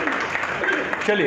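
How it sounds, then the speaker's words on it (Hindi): An audience at a career counselling event for 10th and 12th class toppers in Bhopal claps steadily for a brief stretch, with a voice speaking over the applause. "एक बार राजेश खरे दादा के लिए तालियां आप बजा दीजिए"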